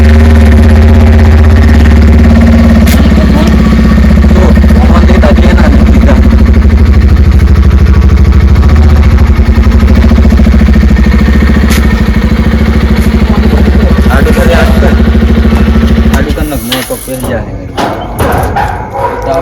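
A motorcycle engine runs loud and close at a steady idle for about sixteen seconds before cutting out, leaving scattered clatter and thumps at the end.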